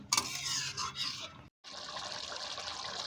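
Water is poured into a chicken kosha gravy in a pan. The liquid gushes and splashes, cuts off briefly in the middle, then carries on as a steady bubbling pour.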